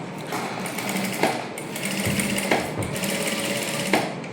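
A sewing machine runs in steady, rapid bursts while stitching the lining of a silk princess-cut blouse for a child's half saree, its close mechanical chatter broken by brief pauses and small thumps.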